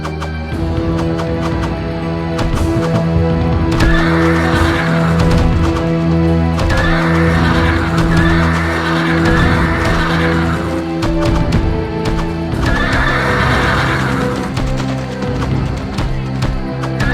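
Continuous clamor of battle in the Empire Earth video game, with Isaurian raiders clashing against Imperial Guard chariot archers, repeated horse neighs rising over a dense, loud bed of game music and combat noise.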